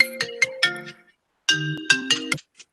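A phone ringtone goes off during a policy committee meeting: two bursts of bright, chiming electronic tones separated by a short pause, fairly close and clear with no talking over them.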